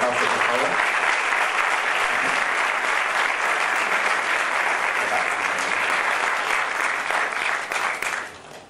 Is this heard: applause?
yes